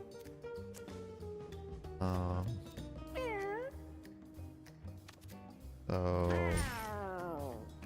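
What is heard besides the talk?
cat meowing in video game Mewgenics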